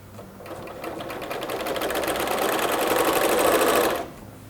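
Domestic sewing machine stitching the sides and bottom of a small embroidered fabric Easter bag, a fast, close, rhythmic mechanical whirr that builds over about three and a half seconds and then stops abruptly.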